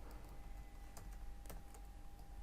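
Computer keyboard typing a web address, a soft continuous patter of keystrokes with a few sharper clicks, close and steady over low room hum, no voices.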